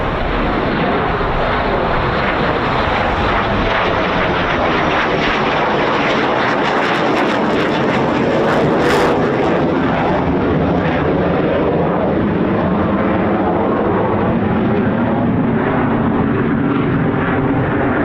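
RAF Eurofighter Typhoon FGR4 jet taking off at RAF Coningsby, a loud continuous roar with crackling afterburner, swelling to a peak midway and holding strong as it climbs away.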